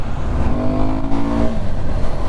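A Suzuki Gixxer 250 motorcycle engine revs up and settles, a steady loud drone with a rising pitch in the middle, heard close with heavy wind rumble during a short ride.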